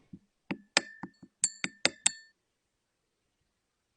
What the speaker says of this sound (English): I then stirred it around and occasionally added more ethanol